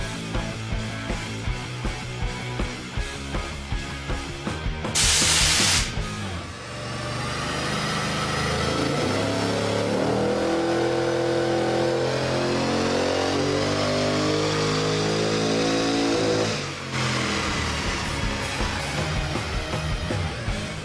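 A car engine on a dyno with a 125 horsepower nitrous oxide shot, first ticking over in rhythmic pulses, then revving hard in one long sustained climb before dropping back to a pulsing idle.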